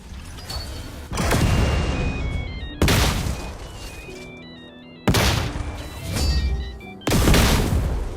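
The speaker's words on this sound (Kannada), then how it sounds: "ನಾನು ಇಲ್ಲಿ back to back sticky bomb ಎಸೆಕ್ try ಮಾಡ್ತೀನಿ" Several heavy sticky-bomb explosions go off in quick succession in the game BGMI, each a loud sudden boom with a rumbling tail, over tonal game music.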